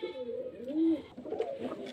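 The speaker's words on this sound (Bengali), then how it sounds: "এই এক পেয়ার জাগ পায়রা দেখতে পাচ্ছেন" A pair of fancy pigeons coo nearby in soft, rolling, low-pitched calls, heard close with a voice speaking quietly in the background.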